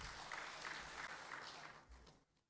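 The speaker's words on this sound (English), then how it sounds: "I will expect a huge round of applause." Audience at a fisheries stakeholder workshop applauding, a faint, steady wash of clapping that fades out toward the end.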